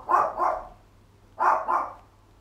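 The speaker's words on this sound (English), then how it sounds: "it's my little dog Bree, she's barking." A small dog barks in two short double bursts, each pair of yaps close together with a pause between them, heard alone with faint background hum.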